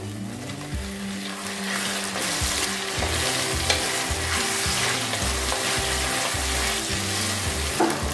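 Tomatoes and onions sizzle and fry steadily in a pan for crab gravy, with scraping and stirring sounds throughout and a low tonal hum underneath.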